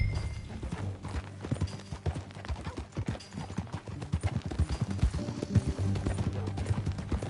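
Steady rhythmic clip-clop of horse hooves in Red Dead Redemption II over a layered game soundscape, continuous and fairly loud throughout.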